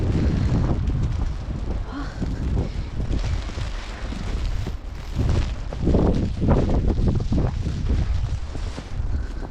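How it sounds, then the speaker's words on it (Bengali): Strong wind roars and gusts during a snowstorm in Canada, buffeting the microphone with loud, uneven rushes throughout. "এদিক দিয়ে হাওয়াটা আসছে।"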